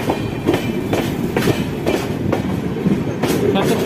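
Konark Express passenger train rolling past, with loud rhythmic clickety-clack of wheels over rail joints repeating about every half second over a continuous rumbling roar, close by and steady.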